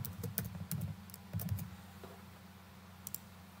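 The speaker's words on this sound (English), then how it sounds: "So next, we're ready to type in what we want to say." Close, soft clicking of a computer keyboard as text is typed in short bursts, a quick flurry of keystrokes, a brief pause, then a couple more taps, with no talking.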